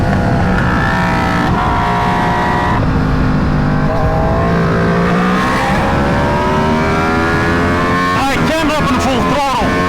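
An Aprilia RSV4 fitted with a 520 chain and sprocket is ridden at full throttle, its engine howling loud and close with rising pitch through the gears, wind rush behind and a rider speaking over it.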